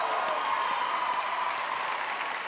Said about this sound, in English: Round of applause for teachers.